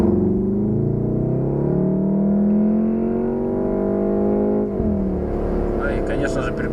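Volkswagen Golf 7 R with its exhaust valve open, breathing through all four tailpipes, drones with a steady, loud engine note that rises and settles as it revs, and a brief shift near the end.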